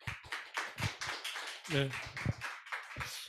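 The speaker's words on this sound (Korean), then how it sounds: "우리 한번 힘찬 박수로 모시겠습니다." An audience claps at a public lecture to welcome the speaker, sharp, close handclaps in irregular bursts, with a brief spoken reply among them.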